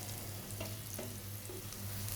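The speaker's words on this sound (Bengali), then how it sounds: "তারপর গরম পানি আর লবণ দিয়ে ভালো করে ধুয়ে ভেজে নিচ্ছি" Soaked soybean chunks, washed in hot salted water, frying in oil: a steady, quiet sizzle with faint taps of stirring, close up and with no voices.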